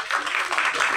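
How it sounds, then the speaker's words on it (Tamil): An audience at a film press meet bursts into brief, dense clapping that holds as an even burst for about a second. "பெரிய கரகோஷத்தோடு"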